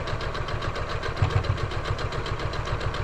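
A sewing machine runs a 1/4 inch seam along a quilt border. Its motor gives a steady, rhythmic, pulsing whir, close and constant for the whole stretch.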